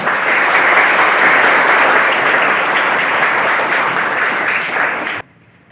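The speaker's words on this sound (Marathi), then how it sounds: "जोरदार टाळ्या" Loud, sustained applause from a school crowd cheering a newly elected general secretary, a dense steady clapping roar that cuts off abruptly near the end.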